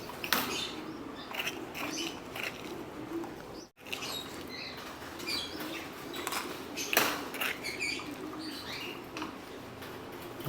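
Soft pigeon coos and cluttered bird sounds fill a busy loft, with scattered wing flutters and rustling throughout, at a moderate distance.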